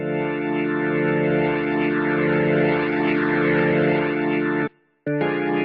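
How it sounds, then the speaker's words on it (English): A sustained electric guitar chord rings out with thick, gritty tube-distortion overdrive and swirling modulation, briefly cutting out before the distorted tone returns. "is that ever a great, gritty, saturated overdrive"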